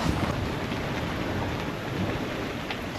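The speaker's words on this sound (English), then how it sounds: "it's not a very nice day today, pouring with rain" Heavy rain pours down in a dense, continuous roar of drops hitting surfaces, with a low rumbling wash underneath and no voices.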